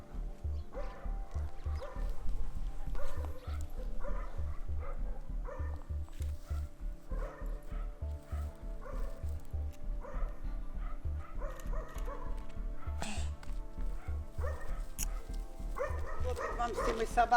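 A stray dog barking somewhere in a Ukrainian neighbourhood during a rabies-control outing, with repeated yips and barks that run through the whole stretch alongside other noise.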